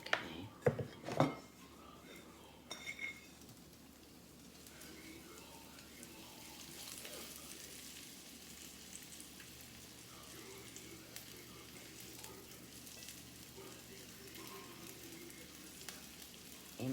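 Beef tips sizzle in hot oil in a pan, with a few sharp clinks of utensils at the start, then a steady low frying hiss that carries on to the end.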